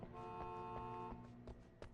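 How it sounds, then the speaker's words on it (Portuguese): Car horns honk in the video game Alan Wake, a steady sustained blare with a few short toots, fairly faint and in the background. "Estão buzinando aí na frente, hein?"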